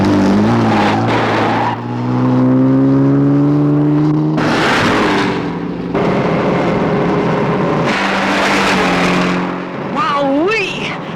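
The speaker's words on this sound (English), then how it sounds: "I'm just gonna have to use the supercharger." A car on supercharger in a Thunderbirds puppet episode, with a loud engine revving and pitch rising as it accelerates, tires squealing, and voices talking over it.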